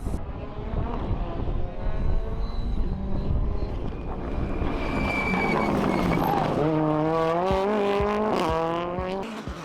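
A Ford Fiesta R5 rally car at a British Rally Championship event revs hard through gear changes, its engine note climbing and dropping repeatedly, loud and sustained with wind noise.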